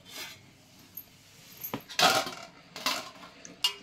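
Utensils scrape and clink against plates and pots while rice and a plantain fry are served at home, a few sharp metallic knocks standing out over quiet clatter, close and without talk.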